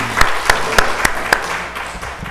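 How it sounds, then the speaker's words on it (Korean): A church congregation claps a few times in loud, distinct strokes that quickly thin out and fade into room murmur. "우리 박수 한번 치겠습니다."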